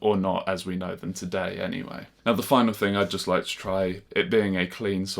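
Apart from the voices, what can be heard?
None of the usual background noises is heard.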